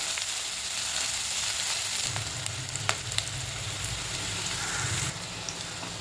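Chopped onion sautéing in a pan until pink, the base for a garlicky spinach dal. A continuous close sizzle swells into louder, rougher crackling for a few seconds in the middle, with occasional sharp clicks.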